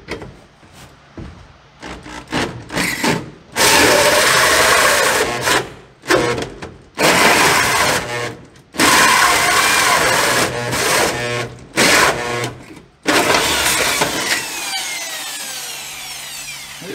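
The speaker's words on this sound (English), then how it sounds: "Let me get my corded drill." A corded electric drill cutting metal during work on a 1940 Chevy coupe, running in several loud, sustained bursts separated by short pauses, with a grinding, rough cutting tone that trails off into a quieter spin-down at the end.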